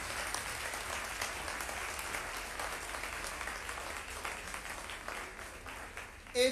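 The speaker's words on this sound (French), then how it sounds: "Acclamez pour Pasteur Amish." A church congregation in Winneba, Ghana breaks into sustained applause and cheering for a pastor, a dense wash of clapping that holds steady for several seconds before a brief louder burst at the end.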